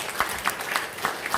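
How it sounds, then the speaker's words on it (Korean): A congregation of army soldiers at a military church service applauds, a steady wash of many hands clapping together, full and close, with no voices over it. "여러분 서로를 위해서 격려하며 우리 박수 한번 쳤으면 좋겠어요."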